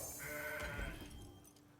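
A single goat bleat from the card game Legends of Runeterra, a wavering nasal cry lasting under two seconds and fairly quiet, heard alone without speech.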